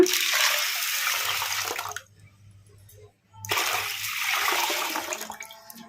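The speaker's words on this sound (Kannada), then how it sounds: "ಈಗ ಇದಕ್ಕೆ ನೀರು ಹಾಕ್ಕೊಂಬಿಡೋಣ" Water pours in two bursts into a vessel of washed black-eyed pea lentils, a close splashing gush that stops briefly, then resumes and tapers off.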